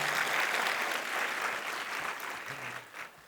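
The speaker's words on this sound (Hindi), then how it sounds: "जोरदार तालियां प्रखर जी के लिए एक और बार" Audience applause for Prakhar at a book talk: a sustained round of clapping, strongest at first, slowly fading toward the end.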